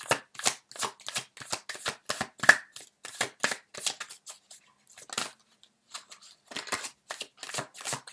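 Tarot cards shuffled by hand in a quiet room, a close run of crisp riffling bursts with short pauses, then a brief gap before the shuffling resumes.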